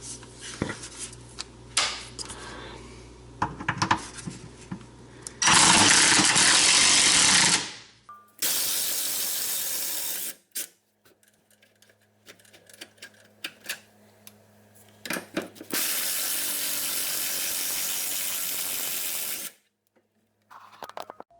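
Impact gun on long 13mm sway bar bracket bolts of an SRT-4, several loud rattling bursts a few seconds each, separated by quieter clinks of tools and handling.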